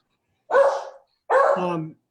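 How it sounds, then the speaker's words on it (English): A beagle barks twice in quick succession, loud and close, each bark a drawn-out howling bay with no talk over it. "Whose dog is that?"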